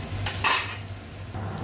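Fried potatoes being lifted off a pan in a home kitchen, a metal utensil scraping and clinking against the pan in a couple of short bursts over a low background hum, fairly quiet, with no talking.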